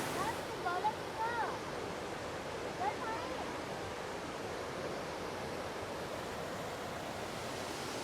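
A waterfall at a busy family tourist spot gives a steady, broad rushing roar that holds evenly throughout, with a few faint voices or chirps near the start.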